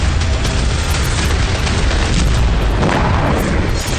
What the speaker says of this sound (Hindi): ये धमाके इजराइल ईरान के बीच होने वाली जंग की बुनियादी कर रहे हैं।